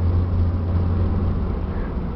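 Steady low rumble from a Ford Bronco II V6 4x4 with a five-speed manual, cruising at a constant pace, the engine and road drone filling the cabin without any voices.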